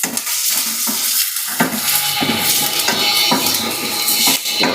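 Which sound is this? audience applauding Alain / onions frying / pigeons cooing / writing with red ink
onions frying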